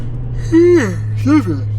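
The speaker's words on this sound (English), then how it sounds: "Sorry if I made you yawn in the car." A person yawns nearby, two drawn-out voiced breaths, the first longer and louder, each trailing off with a falling tone.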